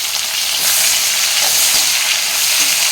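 Chopped onions and green chillies fry loudly in a pan of hot oil for a restaurant-style poori masala, sending up a constant hiss while a utensil stirs and scrapes through them.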